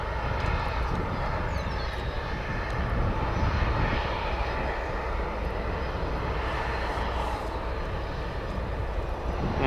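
A CRJ 200 regional jet departing full length from a runway at O'Hare, a loud, steady roar of jet engines that holds throughout, heard from nearby with no talking.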